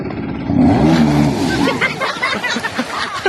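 A Kawasaki 650cc motorcycle engine cranks and catches, rumbling loudly with a rising rev, then settles into uneven idle pulses while voices chatter nearby.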